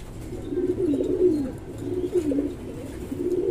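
Racing pigeons coo in steady, soft repeated phrases close by, a low rolling warble that rises and falls in several bursts, with no talk over it.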